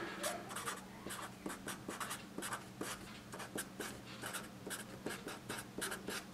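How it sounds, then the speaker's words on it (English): Marker strokes on a whiteboard, a rapid run of squeaky, scratchy taps and swipes repeating steadily throughout, close and fairly loud with no talking. "Let me write it again so you can see it in its full glory."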